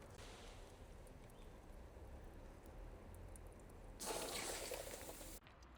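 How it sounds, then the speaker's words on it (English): Water drips faintly from a pipe of a DIY garden sprinkler system outdoors, soft and steady under a constant hiss, with a brief louder rush of noise near the end. "let's let that finish dripping a bit"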